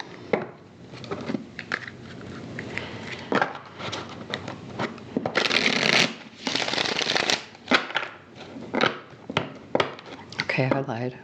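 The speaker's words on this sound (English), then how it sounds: "Let's get the cards shuffled" Cards riffle and snap repeatedly in quick bursts, with shuffling bridged together in several rounds, close and crisp.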